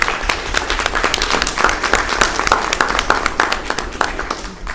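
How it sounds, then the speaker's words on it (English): A small audience at a Schuylkill Valley school district board meeting claps steadily in a modest, close round of applause that thins out toward the end. "Let's give them one round of applause again."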